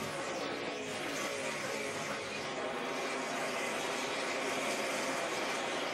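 A pack of NASCAR stock cars roars around the Pocono oval during the 2008 Pennsylvania 500, a steady, dense engine drone with a faint commentator's voice underneath.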